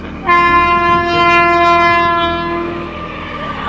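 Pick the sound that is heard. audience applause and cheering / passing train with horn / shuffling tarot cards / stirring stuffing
passing train with horn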